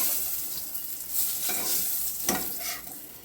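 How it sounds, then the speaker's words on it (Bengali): Pointed gourd (potol) fries in oil in a pan, giving a steady close sizzle with soft scrapes of stirring and no one talking. "এই হলো পটলগুলো ভাজা।"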